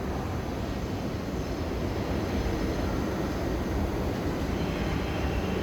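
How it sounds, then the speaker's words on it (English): A subway shuttle train pulls into the Times Square station, a loud, steady rumble and roar of wheels on rails filling the platform throughout with no let-up. "There's the shuttle train arriving."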